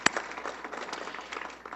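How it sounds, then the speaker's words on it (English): Applause at a morning education summit held by a business advisory council in Tempe, a sharp opening clap and then light, scattered clapping from a modest crowd. "I'd like to give them a big round of applause"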